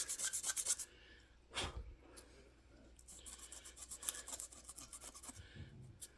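Hand sanding on a piece being restored, with bursts of rasping rubbing strokes, quiet and close, separated by pauses and a low thump, with no talking.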